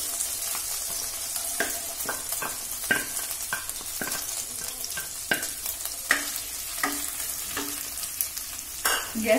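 Onion fries in a little oil for prawn curry, giving a close, steady sizzle broken by repeated sharp scrapes and knocks of stirring against the pan.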